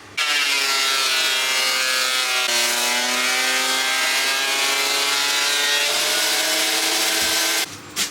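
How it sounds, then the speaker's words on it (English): A planer thicknesser feeding a wooden board, a loud steady high-pitched machine whine with a rising cutting roar, running continuously for several seconds before cutting off abruptly near the end. "So this is the planer, and when I feed it through there, that's the thicknesser."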